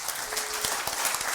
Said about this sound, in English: Big round of applause for Brett.